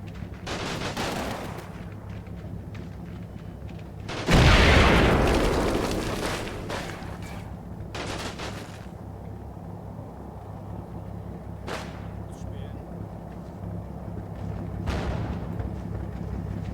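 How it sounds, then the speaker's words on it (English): A single heavy blast from a hand grenade detonating in the wartime strategy game Combat Mission Red Thunder. It booms loud and close, then its rumble tails off over several seconds amid scattered distant gunshots and battlefield noise. "It sounded like a hand grenade"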